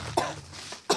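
Two sharp coughs from one person, the first short burst followed by a pause and a second louder cough at the end, close and clear with no talking.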